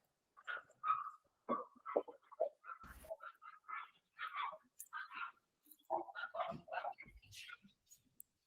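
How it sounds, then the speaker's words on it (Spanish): Dogs bark and yip repeatedly at a distance, faint and muffled, in irregular bursts with brief gaps. "¿Se escuchan los perros?"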